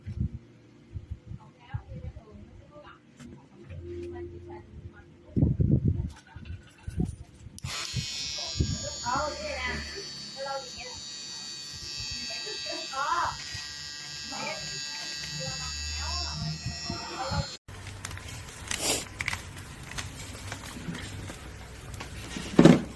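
A VINTAGE-model professional electric hair clipper and trimmer runs with a steady, close electric buzz, switching on partway through and holding a constant drone with handling bumps around it.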